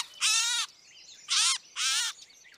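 A gray catbird, held in a mist net while being untangled, gives three harsh, raspy calls in quick succession, close and fairly loud against a quiet outdoor background.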